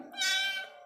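A small kitten left alone in an open field lets out one clear, close meow lasting under a second, with a rising then falling pitch and no other sounds around it.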